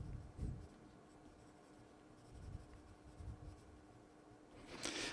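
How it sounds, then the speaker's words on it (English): Pen scratching across the back of a helmet brochure in a steady, close, soft scribble that runs throughout, with a slightly louder stroke near the end. "I don't generally write on the back of a helmet brochure, but that seems like a good one to write on"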